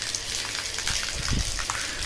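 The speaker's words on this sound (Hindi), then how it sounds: "मोटर मैंने ऑन कर दी है, ये आ गया पानी, इसके नीचे नहाता हूँ मैं।" A motor-pumped outdoor shower gushes water in a steady, soft rush that runs without a break, with a few faint splashes spattering underneath.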